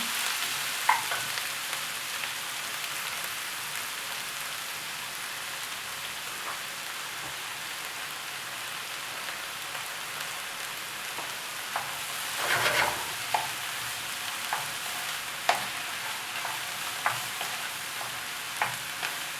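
Onion fries in oil in a pan for traditional Romanian sarma, giving a steady, close hissing sizzle, with occasional scraping and clinking from stirring and no voices.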